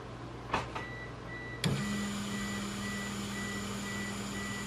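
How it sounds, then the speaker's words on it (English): An electric fuel pump in a second-generation Eclipse primes for six seconds, a steady electric whir starting abruptly after a couple of clicks and running evenly, with a faint intermittent high tone over quiet background noise. "If you hear a noise, the pump noise, means that the ECU is working."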